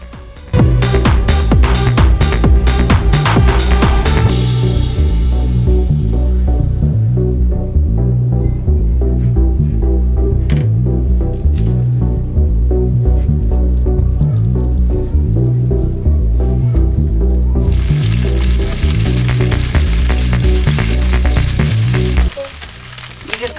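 Mackerel pieces dipped in rice rava sizzle and crackle steadily in a pan of hot oil, loud and close throughout, with a low repeating throb underneath and no talking.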